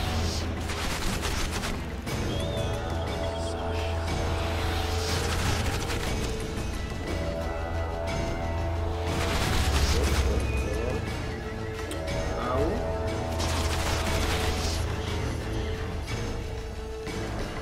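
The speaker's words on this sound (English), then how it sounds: "Take cover! They're shooting!" Gunfire and combat racket in The Witcher 2: a dense, continuous wash of shots, clatter and crashes, with louder swells around the middle, constant and fairly loud.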